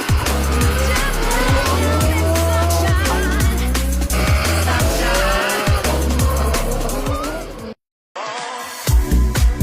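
A drift car runs on a race track in Madrid, Spain, its engine roaring loud and steady as the tires squeal through long slides, then a brief cut and the engine returns.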